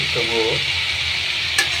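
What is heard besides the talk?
greens (kamli shak) being stir-fried in oil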